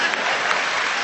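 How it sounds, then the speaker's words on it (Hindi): An audience at a live Hindi comedy show claps in a steady, dense burst of applause that fills the whole second at even loudness, with no voices over it. "इधर से तालियां कम बज रही हैं"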